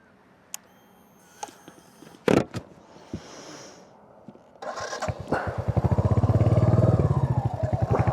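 Royal Enfield Hunter 350 motorcycle fitted with a throttle lock: a few scattered clicks and knocks, then the single-cylinder engine fires up into a loud, steady, thumping run close by.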